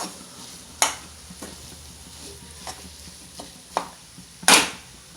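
A spoon working through a soya chunks cutlet mixture in a bowl: a soft continuous scraping texture broken by several sharp clinks against the bowl, the loudest near the end, with no talking.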